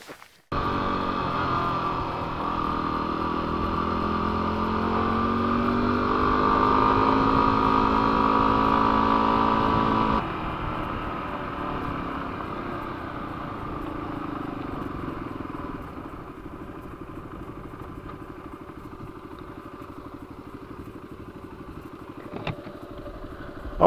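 A motorcycle being ridden on an adventure ride, its engine holding a steady droning note that swells for the first ten seconds, then drops to a softer, rougher rumble as it continues.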